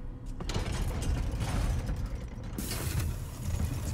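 An elaborate door mechanism unlocks with a horse key in Resident Evil Village, giving a loud run of grinding gears, creaks and ratcheting clunks that continue for several seconds, with no talk over them.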